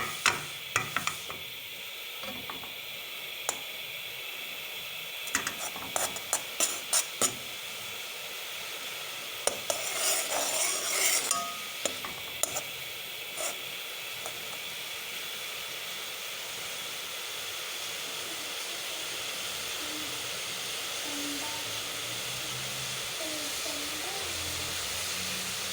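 Dates and tamarind with a little sugar simmer in a pan, giving a soft continuous steamy hiss, with a few scattered clinks and scrapes of stirring near the start.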